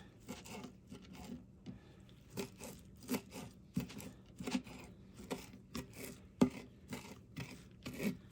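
A knife chops cilantro for salsa on a board, producing soft, quiet, uneven scraping taps in a loose rhythm with no talking.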